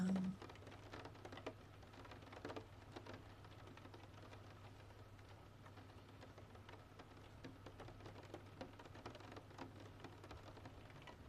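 Faint, distant rain falling steadily, a soft continuous patter and hiss with occasional light drop ticks, quiet and even throughout with no voices.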